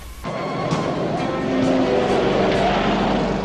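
A cartoon van with failed brakes speeds toward a wall. Its loud, close engine roars and rushes steadily, with tire-squeal-like streaks throughout.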